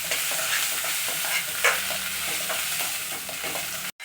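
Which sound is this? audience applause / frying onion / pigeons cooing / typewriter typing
frying onion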